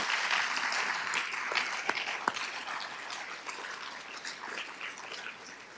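An audience claps at the Sages Over 70 honoree celebration in Des Moines, dense sustained applause filling the room, with a couple of sharp louder claps near the middle and a slight easing toward the end.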